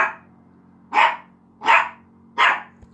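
A dog barks indoors in loud, sharp, evenly spaced woofs, about three distinct barks roughly 0.7 seconds apart, over a low steady hum.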